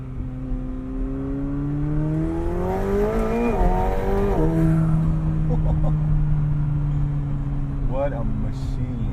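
A 2020 McLaren 720S Spider convertible in track mode, rear window down, revs hard with rising and falling engine pitch through several sharp climbs, close and loud, with a voice speaking over part of it.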